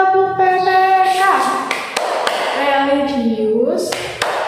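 Teacher and pupils in a classroom chant together in rhythm, scattered sharp hand claps and taps punctuating the sung voices, close and lively throughout.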